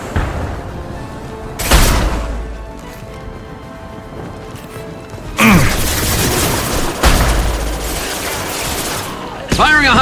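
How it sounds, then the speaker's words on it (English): Heavy gunfire in the Mass Effect 2 video game, with loud impact blasts and bursts near 1.7, 5.4, 7.2 and 9.5 seconds over a steady rumbling battle background. "Firing a high-impact shot!"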